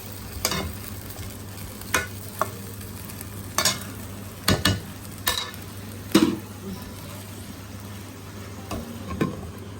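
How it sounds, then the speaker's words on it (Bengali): Chicken simmering in gravy for khichuri in a pot over lowered heat, heard as a soft steady bubble with scattered sharp stirring scrapes and clinks spaced a second or two apart, no voices. "তো একটু ঝোল দিয়ে দিলাম, চুলাটা কমাই দেবো, আস্তে আস্তে কষবে।"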